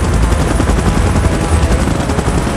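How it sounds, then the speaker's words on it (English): A helicopter in a Godzilla and King Kong scene gives a loud, dense, continuous rotor roar with a rapid choppy beat throughout, with no speech on top. "Chopper in position."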